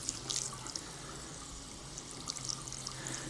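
Running water splashing and trickling as shampoo is rinsed from hair, a hand pressed in to fill with water then pulled back; close, fairly quiet wet spatter with small sharp drips, no talking.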